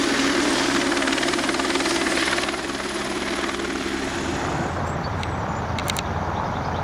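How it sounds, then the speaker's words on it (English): Helicopters flying low over a vineyard at sunrise to fight frost give a steady loud rotor roar that thins and fades into the distance, with no talking. "The helicopters have pulled out, headed back to Wanaka"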